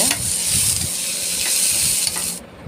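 Pepper, cumin, dried chillies and asafoetida fry in oil with a loud, steady hiss and sizzle, a few stirring knocks early on, then an abrupt drop in loudness at the very end.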